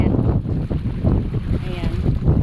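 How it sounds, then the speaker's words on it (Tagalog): Ocean waves wash continuously at the shore under heavy wind buffeting the microphone, with brief voices in the background. "maririnig ninyo ingay ng alon"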